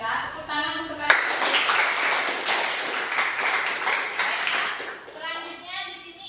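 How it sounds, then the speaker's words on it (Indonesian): Schoolchildren in a classroom break into a burst of hand clapping that starts abruptly and runs for about four seconds, dense and fairly close, then tapers off as voices return. "Tepuk tangan untuk kalian."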